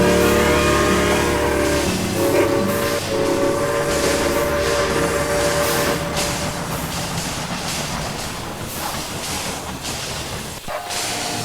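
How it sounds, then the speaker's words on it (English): A freight train loaded with meat runs in the railway simulation game Railway Empire 2, with a steady loud rumble of rolling wagons and a sustained horn tone for the first few seconds. "Our first delivery to Chicago, a full train of meat."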